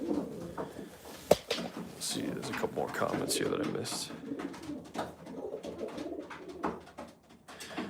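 Homing pigeons coo softly in a loft at night, low throaty calls rising now and then beneath someone talking close to the microphone, with a sharp knock partway through.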